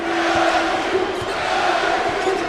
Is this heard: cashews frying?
no